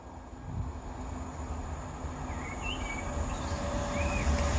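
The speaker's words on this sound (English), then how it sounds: "Now passing through is going to be a cross-country Voyager for Manchester Piccadilly." A Cross-country Voyager train passes through the station at Kings Sutton on the Chiltern Main Line, a steady broad rumble building gradually, with faint birdsong and a thin high whine over the rolling noise, no talk.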